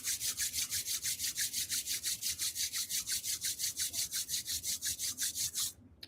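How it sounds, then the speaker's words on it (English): Two palms rub briskly together in a steady back-and-forth rhythm, each stroke a bright dry swish, about two dozen strokes in close succession before stopping abruptly near the end. "Rub your hands together."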